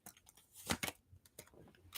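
A deck of tarot cards is shuffled in a few quick, soft riffles and slaps, faint and close, with brief gaps between bursts.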